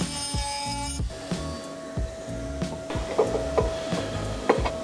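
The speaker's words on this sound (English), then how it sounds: "I'm just bringing the surface down a little bit with a wire brush, just so it matches up" Wire brush scraping down the surface of a metal part for a fitted repair, rhythmic rasping strokes repeating about once per second, close by, with a faint steady whine underneath and no talking.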